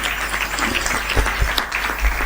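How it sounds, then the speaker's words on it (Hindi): An audience at a Hindi poetry recital claps in a short, dense burst of many hands, steady and fairly close over a low constant hum. "अगर बात सही हो तो ताली बजा दीजिएगा"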